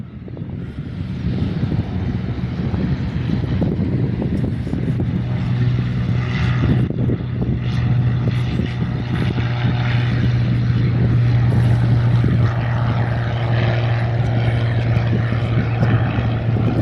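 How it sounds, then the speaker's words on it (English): A Cessna C-182 propeller plane departs the touch-and-go runway at Jandakot on a windy day, its engine drone loud, steady and continuous throughout, with a strong low hum and wind rush. "Air Flight Cessna C-182 departs Jandakot's touch and go runway."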